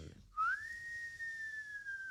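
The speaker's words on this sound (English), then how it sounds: "gave a vent to a prolonged whistle" A single prolonged human whistle rises quickly and then holds a clear steady tone for nearly two seconds, near and alone against a quiet background.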